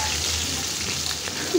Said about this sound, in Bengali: এখানে আমার মাছগুলো ভাজা হয়ে গিয়েছে, এখন আমি একটা একটা করে উঠিয়ে নিব।